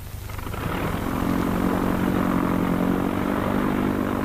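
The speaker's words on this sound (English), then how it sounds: "One by one, the planes take off." Propeller training aircraft of the vintage Indian Air Force take off, engine drone swelling from quieter to a loud, steady, dense roar that holds to the end.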